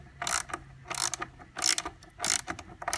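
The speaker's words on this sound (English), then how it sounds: "we can take our ratchet and start loosening" A ratchet loosening the axle nut on a Razor E200 scooter, four bursts of quick clicking ratchet strokes in a steady rhythm, close and clear with brief pauses between.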